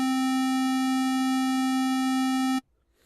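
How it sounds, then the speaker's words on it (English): A pure synthesizer oscillator sine tone generated in Pro Tools holds steady and loud for about two and a half seconds, then cuts off abruptly into near silence. "It allows you to add distortion to the sound coming out of the oscillator or noise."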